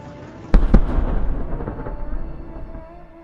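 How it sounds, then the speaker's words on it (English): Explosions as a GMLRS missile hits a Russian 122mm MLRS on a Kamaz 535 chassis in the Zaporizhzhia sector: two sharp, close blasts in quick succession, then a long rumbling roar that slowly fades. "The Russian 122mm MLRS on a Kamaz 535 chassis was epically destroyed by a GMLRS missile."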